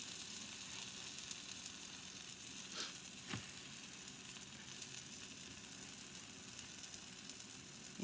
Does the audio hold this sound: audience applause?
no